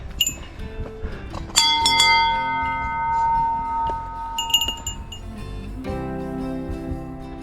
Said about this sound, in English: it's a little bear bell, keep them away